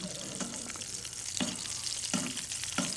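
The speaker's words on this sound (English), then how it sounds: "I can hear it sizzling away" Duck breast sizzles and crackles steadily in a hot pan, with a few louder pops and spits over the constant frying hiss.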